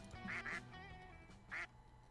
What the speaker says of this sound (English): Oh, all the duck noises.